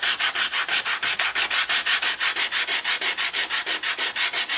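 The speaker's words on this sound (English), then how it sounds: "we're going to go in with some sandpaper now" Sandpaper rubbing back and forth over gesso-textured paper on an altered book page, a steady run of about twenty-two rhythmic scraping strokes, close and loud with no talk.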